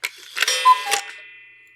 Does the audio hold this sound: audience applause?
no